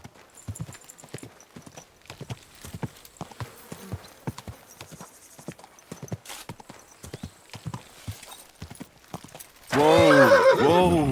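Horse hooves clip-clop in a steady, uneven rhythm on a hard surface, then a loud, close neigh bursts out at the end.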